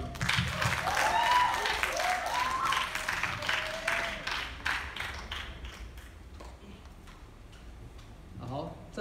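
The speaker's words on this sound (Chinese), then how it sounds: "再一次掌声感谢乌克丽丽社带来三首情歌" Audience applause at an unplugged campus acoustic music festival, following a ukulele club's set of three love songs; steady dense clapping fills the first half, then thins out into scattered claps with a voice speaking over it.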